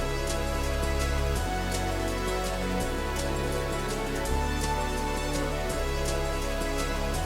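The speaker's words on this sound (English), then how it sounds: "Then we add the two percussion loops from before." Dense, loud music beat for an emotional beat-switching song: stacked bass and earlier layers joined by two percussion loops, steady repeating hits driving throughout with no talking.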